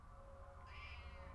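A cat gives a single faint, short meow indoors over a low steady background hum.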